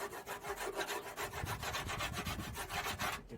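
Sanding body filler on a Suzuki Samurai SJ410 by hand, a quick rhythmic rasping scrape repeating about five times a second, close and steady for the whole stretch with no talk.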